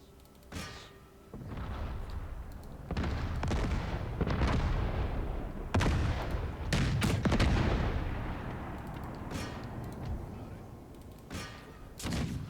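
Explosive artillery fires in the video game Empire Total War: a series of sharp, booming blasts at irregular intervals, some close together in clusters, each trailing off into rumbling echo.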